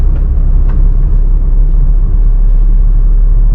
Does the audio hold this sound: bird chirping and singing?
no